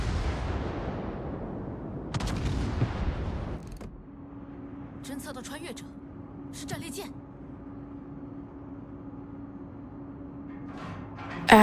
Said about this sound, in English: I was still able to shoot a salvo at him